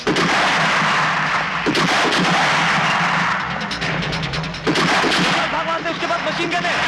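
Gunfire in a Hindi film action scene, with a dense loud rattle of shots and bursts running throughout, layered with shouting voices and dramatic score.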